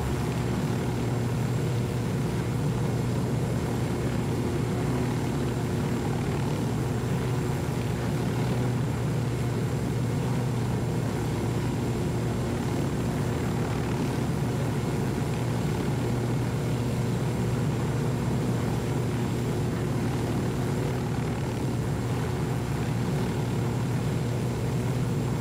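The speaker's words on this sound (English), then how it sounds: "Let's see if the chopper tries to kill us" A helicopter in the video game Ghost Recon Wildlands flies nearby, its steady, loud rotor and engine drone holding constant throughout with no talk over it.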